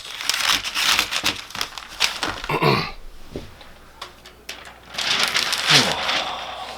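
Wrapping paper crinkles and rustles in repeated bursts while scissors cut through it, loud and close, with a brief pause before the crackling resumes.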